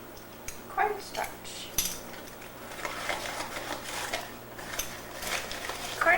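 A spoon stirs sugar and cornstarch together in a bowl, making faint, scattered clinks and scrapes of utensil against dish, with no talking.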